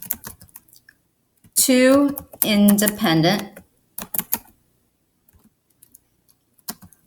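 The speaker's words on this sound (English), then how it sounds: "I'm having trouble typing today." Scattered computer keyboard taps, sparse and close, come between short bursts of a person talking.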